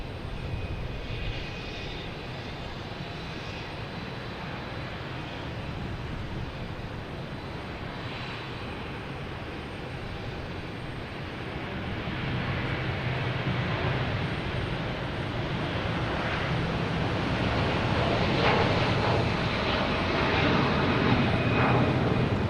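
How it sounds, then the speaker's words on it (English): Virgin Atlantic Airbus A330-300 jet passing at Boston Logan Airport, a steady broad engine roar that builds gradually louder over about twenty seconds, heard alone without talk. "Virgin Atlantic heading to London Heathrow"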